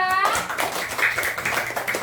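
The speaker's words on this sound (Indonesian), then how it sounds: "Tepuk tangan untuk kelompok 2" Classroom group applauding group 2 after a presentation, a steady patter of many hands clapping together at moderate loudness, with faint voices underneath.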